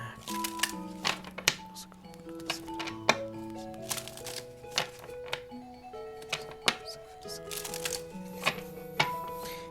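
Oracle cards are shuffled in quick riffling flutters and crisp snaps, close and repeated in short bursts, while soft music with sustained tones plays underneath.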